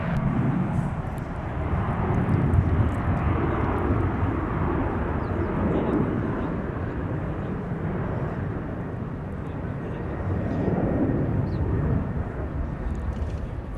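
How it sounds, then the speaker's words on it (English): A Delta airliner takes off from Minneapolis–St. Paul airport, its engines giving a loud, steady roar that swells and holds for the whole stretch, sitting close and heavy in the low end with no talk. "Delta 160 now airborne for Amsterdam."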